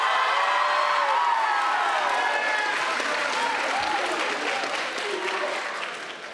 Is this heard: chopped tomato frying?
no